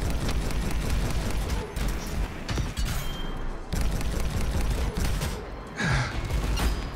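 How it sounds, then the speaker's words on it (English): Rockets fired at the player during co-op combat in Anthem, a dense barrage of explosive bursts and booms packed closely together, loud and continuous with a few brief lulls. "Stop shooting me rockets"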